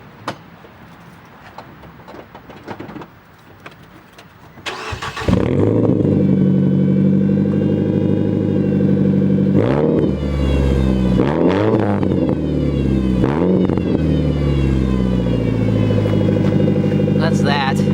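A car's engine starts and idles after its exhaust was patched with a soda can, a loud steady rumble with a few blips of revving following some clattering handling noises, heard up close.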